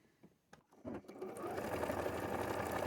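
A sewing machine stitches along a drawn line on a sheet of paper, starting with a few short bursts before settling into a steady, continuous whir close by.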